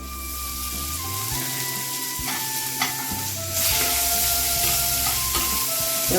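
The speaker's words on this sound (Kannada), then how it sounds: "ಚೆನ್ನಾಗಿ ಫ್ರೈ ಆಗಬೇಕು ಇದಕ್ಕೆ" Cumin, curry leaves and green chillies fry in hot oil for a tempering, giving a continuous crackling sizzle that swells louder midway, with a few stirring knocks and scrapes.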